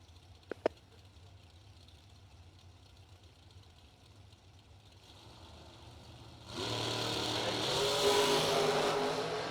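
Blue and white drag racing dragster at a drag strip, quiet idle at first with two sharp clicks, then a loud engine roar that swells and holds steady toward the end.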